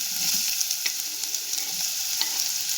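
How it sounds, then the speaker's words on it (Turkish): Steady hissing sizzle of onions frying in hot oil, with a few soft scrapes of a spoon stirring the pan. "Soğanımı kavuruyorum şimdi."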